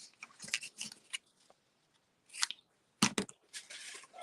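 Scissors snip through paper during card making, a few short crisp cuts in clusters separated by quiet pauses, close and fairly faint.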